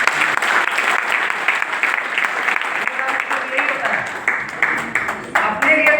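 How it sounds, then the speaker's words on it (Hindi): A hall full of award achievers from Shimla claps loudly for themselves, sustained dense applause filling the room, with a voice speaking over it near the end. "अपने लिए एक बार जोरदार क्लैपिंग करें।"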